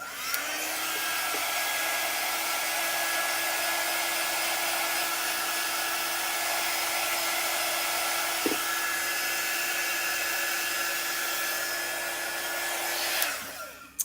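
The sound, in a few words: hair dryer drying chalk paste stencil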